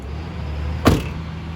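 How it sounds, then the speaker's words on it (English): A Class B vehicle door swings shut with a single sharp slam, loud and close, set against a low steady background hum. "And my door closes securely."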